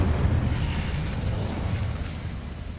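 Spell explosions from Confringo in Hogwarts Legacy make a continuous rumbling, booming wash of blasts with no clear gaps between them, heavy in the low end and steady in loudness.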